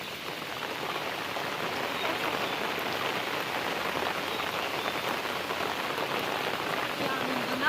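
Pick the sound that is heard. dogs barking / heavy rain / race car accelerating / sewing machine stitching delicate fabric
heavy rain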